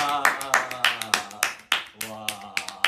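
Hands clap in quick, uneven bursts of about a dozen close, sharp claps, with voices around them in a casual indoor setting.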